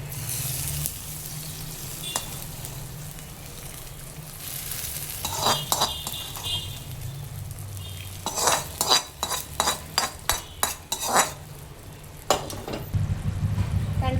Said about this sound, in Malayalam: ഇതിലോട്ട് 2 കരിയാപ്പലയും കൂടി ഇട്ട് മൂപ്പിക്കും.